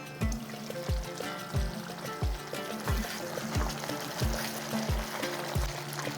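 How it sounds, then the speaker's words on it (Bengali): Half a cup of water is poured into a simmering chicken curry, making a steady trickling pour over repeated low bubbling plops and a faint sizzle, close by, with no voices. "ঠিক এই সময় আমি দিয়ে দেব হাফ কাপ জল"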